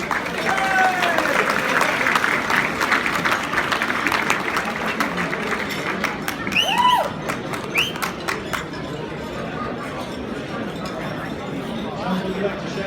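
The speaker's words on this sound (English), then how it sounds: "Can you give him a applause, please?" Audience applause at a church gathering, steady dense clapping throughout with some crowd chatter and a few brief voices mixed in.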